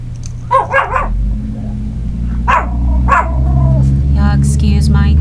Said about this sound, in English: He hears dogs barking outside and